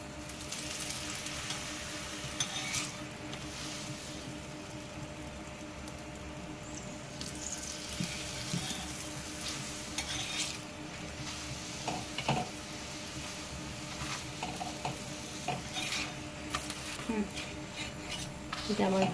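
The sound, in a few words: carrot potato paratha frying in oil in a pan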